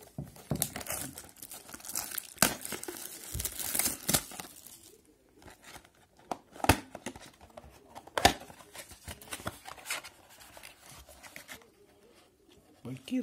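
Foil packs of 2020/21 Upper Deck Artifacts hockey cards being torn open and crinkled nearby, with bursts of crumpling and ripping that fade into sparser handling rustles.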